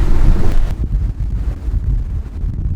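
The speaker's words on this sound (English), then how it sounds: "The apparent wind reached 23 knots a few times and was staying there pretty steady" Strong wind of about 23 knots blowing across a sailboat at sea in near-gale conditions, heard as a loud, continuous roaring rush that buffets the microphone, with no voices.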